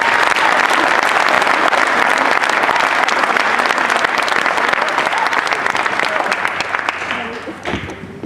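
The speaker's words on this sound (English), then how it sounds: "give a round of applause to our state championship coach" Loud, steady applause from a crowd at a homecoming welcome for a state championship wrestling team, continuous and dense before thinning slightly toward the end.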